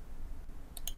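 A computer mouse right-button click, two sharp, close clicks in quick succession near the end after a brief quiet stretch.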